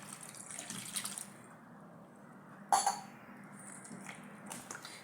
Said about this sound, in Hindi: धीरे धीरे करके पानी डालना है हमको